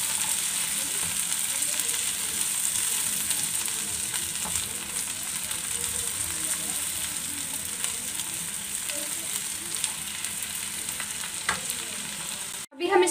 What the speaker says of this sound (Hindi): टमाटर को अच्छी तरह से हम भून लेंगे।